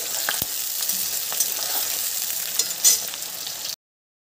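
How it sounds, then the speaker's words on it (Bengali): Onions frying in a pan for Kashmiri chicken give a steady, close hiss of sizzling oil with scattered small pops and a brief stir scrape near the end, then sudden silence. "পেঁয়াজটাকে ভালো করে এবার একটু ভেজে নেব পেঁয়াজটা"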